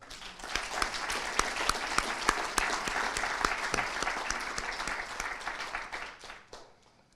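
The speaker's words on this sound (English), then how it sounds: "Please provide a round of applause for all these wonderful people." An audience at a business school speakers series event applauds, a dense, steady patter of clapping hands that sustains for several seconds and then tapers away toward the end.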